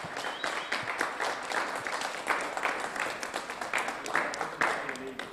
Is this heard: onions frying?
no